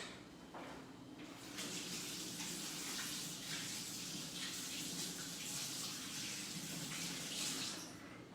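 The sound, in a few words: washing hands at a tap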